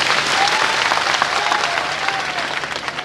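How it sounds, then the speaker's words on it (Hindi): An audience claps for a child at a religious discourse, with dense, steady applause filling the space at an even level throughout, no voices on top. "एक बार ताली बजाओ इसके लिए।"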